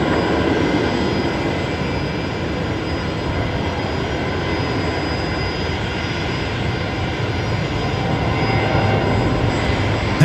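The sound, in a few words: Qantas jet airliner taking off at Brisbane airport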